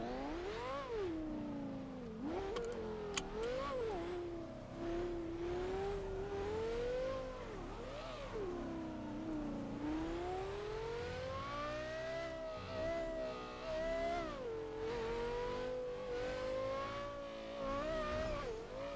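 A car engine in a video game revs and shifts continuously, its pitch rising and falling through gear changes and acceleration, loud and close with no talk.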